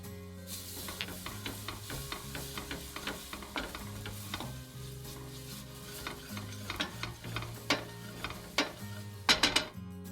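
Finely minced shallot and garlic fry softly in a pan, a steady low sizzle broken by frequent sharp stirring scrapes and clinks of a utensil against the pan.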